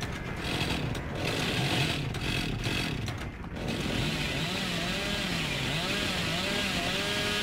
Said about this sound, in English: I need one more chainsaw!